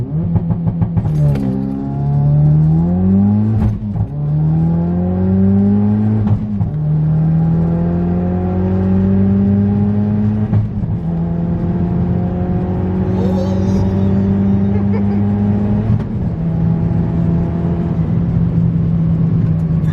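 A Ford Focus RS launches hard from a standstill in first gear, its engine revving loudly and continuously with rising pitch sweeps through several gear pulls, close and dominant with no talk.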